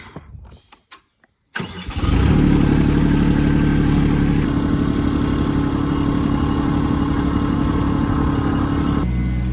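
A farm tractor engine cranks and fires up after a brief quiet stretch, then settles into a loud, steady running rumble close by, with no talk over it.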